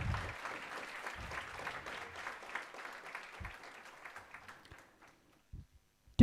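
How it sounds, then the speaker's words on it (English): An audience at an institute induction programme gives a round of applause, moderate clapping that holds for several seconds and then thins out to a few scattered claps before silence. "A loud round of applause, please."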